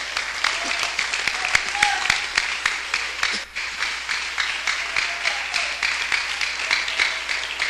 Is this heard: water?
no